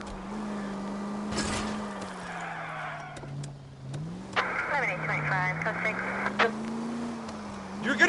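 Car engine in the video game L.A. Noire, a steady droning hum that rises and falls with revving as the car is driven, while people shout and argue over it.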